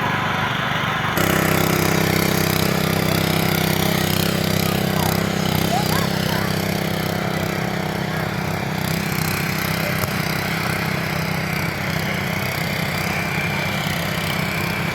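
A farm machine engine running while working soil: a loud, steady engine drone with rattling that continues for the whole stretch.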